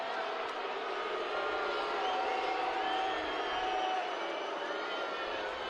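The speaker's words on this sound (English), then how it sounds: "Crowd starting to get a little antsy here" Broad, steady murmur of a soccer stadium crowd during a New Mexico United match against Orange County SC, restless after a foul whistle, with a faint whistle-like tone partway through and a commentator speaking over it.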